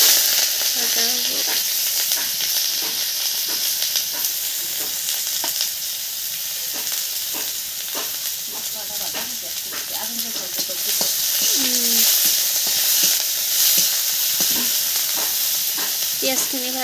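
Onions and dried chillies frying for a pork dish, a continuous close sizzle with occasional stirring scrapes and clinks and brief faint squeaks, swelling louder toward the end.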